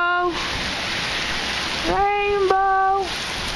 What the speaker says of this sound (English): here's the rain